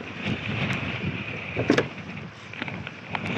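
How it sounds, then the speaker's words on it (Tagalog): Steady, loud wind rushes across the open sea from a fishing boat, with gusty buffeting and occasional knocks and bumps, no voices. "Ah, lakas ng hangin!"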